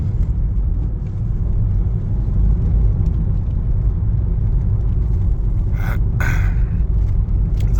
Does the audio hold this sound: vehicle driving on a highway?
yes